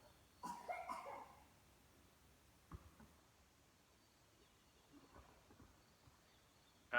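A single faint cough sounds near the start in a quiet room, followed by a few soft, brief throat noises spread through the otherwise still background.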